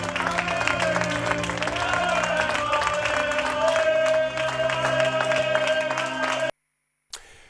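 Football fans chanting and applauding for Alberto, a dense, steady crowd roar with rhythmic claps and sung chant that cuts off abruptly into silence near the end.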